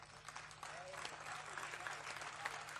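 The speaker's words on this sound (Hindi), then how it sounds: "अगर आप लोग मेरे लायक हो गए हो तो मुझे ताली बजा के बता दें" Audience clapping at a live comedy show, a sustained patter of many hands, fairly faint and distant, with voices mixed in underneath.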